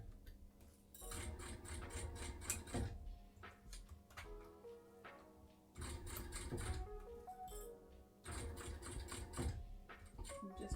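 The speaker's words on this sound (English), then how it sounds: "I'm just going to work my way around now and top stitch all the way around the edge" Domestic sewing machine top stitching around the edge of a fabric pouch, running in steady mechanical bursts with pauses between runs, close and fairly loud, no voices.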